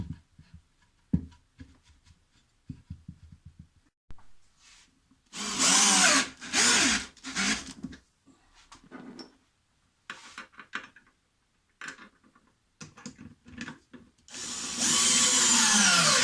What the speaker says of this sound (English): I'll find my Dremel tool and simply cut a slit so I can tighten them with a screwdriver.